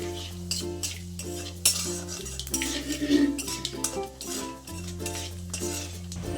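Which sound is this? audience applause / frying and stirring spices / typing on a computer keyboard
frying and stirring spices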